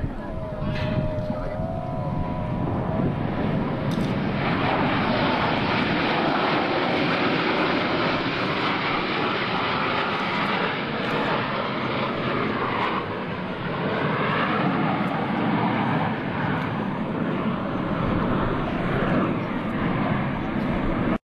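Blue Angels jets of the US Navy roar steadily overhead at the Dayton airshow, a loud continuous engine wash over the whole stretch, with a commentator's voice speaking over the public address.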